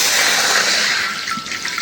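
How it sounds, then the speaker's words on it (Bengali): A steady rush of water pours into a cooking pan with potato and eggplant, loud and close, hissing and splashing without a break for a couple of seconds. "আর এখন একটু কড়াইতে পানি দিয়ে দিই"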